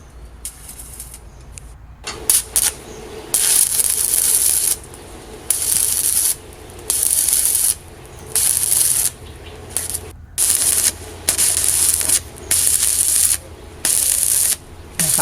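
Arc tack welding on a steel frame for a house awning: repeated loud crackling, hissing bursts of about a second each, separated by brief pauses, close by and sustained through the stretch.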